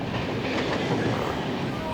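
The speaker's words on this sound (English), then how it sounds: "this is Guwahati Secunderabad Express, which our train is overtaking right now" Steady rolling rumble and clickety-clack of a Rajdhani Express train on rails as it overtakes another train, the Guwahati Secunderabad Express, heard continuously from inside at moderate loudness.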